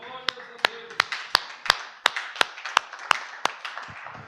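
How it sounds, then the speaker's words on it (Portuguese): Clapping during a church service, a run of about twelve sharp, evenly spaced claps close by, with a faint voice in the background at the start. "Uma salva de palmas do Espírito Santo."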